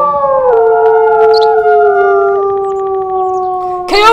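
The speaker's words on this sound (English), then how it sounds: "Coyote, coyote!" Coyote howling in the WolfQuest video game: a long, sustained, wavering howl with layered tones, loud and close, holding for about four seconds before a brief noisy burst at the end.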